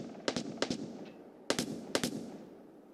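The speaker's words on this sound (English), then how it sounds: "Someone's shooting over here." Video game gunfire in quick bursts: two sharp double shots, a brief pause, then two more double-shot bursts, loud and close.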